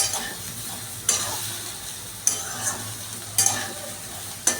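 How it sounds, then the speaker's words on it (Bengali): Carrots and potatoes frying together in oil in a pan for a cauliflower and pea vegetable curry, with a soft continuous sizzle broken by four sharp stirring scrapes at roughly even intervals. "গাজর আলু দিয়ে দেওয়ার পরে আমি এটা আবার একসঙ্গে সবগুলো ভেজে নিচ্ছি"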